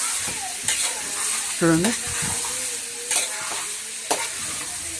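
Chicken 65 mixture frying in a pan while being stirred, a continuous sizzle broken by scraping strokes and clanks of the spoon, with a brief spoken word over it.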